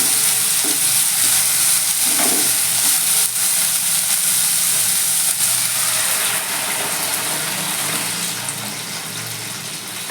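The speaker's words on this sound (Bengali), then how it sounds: "এবার আমি স্টকটাকে ঢেলে দেবো" Stock poured into a pan of chicken soup, a steady liquid rush and sizzle that runs without a break and eases slightly toward the end, with no voices.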